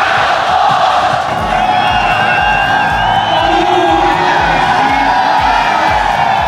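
A packed Al Ahly football stadium crowd roars and cheers pitch side as the trophy is lifted, a loud, continuous wall of shouting and chanting with rhythmic thumping beneath.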